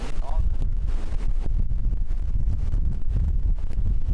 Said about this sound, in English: That wind was so loud inside the barn and it was picking up pace, almost like a locomotive